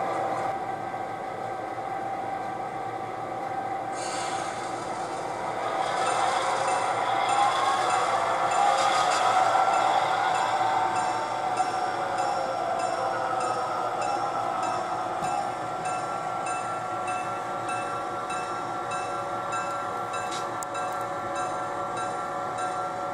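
Freight cars rolling during local switching at Farnhamville, a steady rumbling and squealing rail noise that swells and continues without pause, with a brief hiss at the start and no voices.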